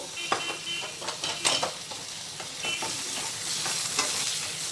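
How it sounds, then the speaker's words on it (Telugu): Eggs fry in a little oil in a pan on a gas stove for egg biryani, giving a close, continuous sizzle with a few crackles and scraping stirs early on, and no voices. "ఈ ఎగ్స్ని కొద్దిసేపు ఫ్రై చేసుకోవాలి"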